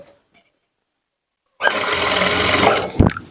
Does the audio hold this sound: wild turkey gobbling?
no